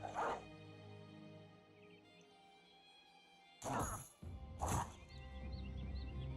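Dogs barking in battle in the Battle Brothers video game: an early bark, then two sharp, loud barks close together near the end, mixed with combat thuds and crashes.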